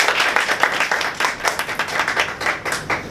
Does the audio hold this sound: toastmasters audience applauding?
yes